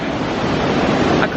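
A swollen river, running very full after heavy rain in Slovenia, rushes below a crossing as a loud, steady broadband roar with some wind buffeting the microphone.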